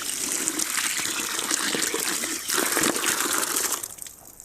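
Free-range chicken eggs are rinsed under a running tap, a steady close gush of water splashing over the shells throughout, with no talking.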